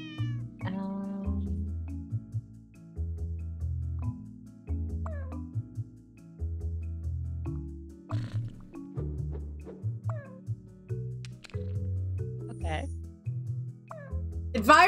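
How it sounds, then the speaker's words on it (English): A cat meows several times in the background, faint and intermittent, beneath steady talking. "You might hear cats"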